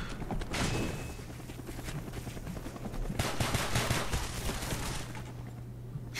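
Machine gun fire rattles in rapid bursts during a Call of Duty Black Ops match, mixed with other gunshots and thuds in a dense, continuous game soundscape at moderate volume.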